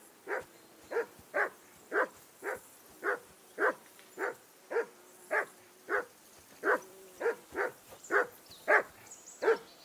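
A dog named Mutt barks in Kingdom Come: Deliverance II, giving a steady series of about twenty evenly spaced, fairly close barks with no talk over them.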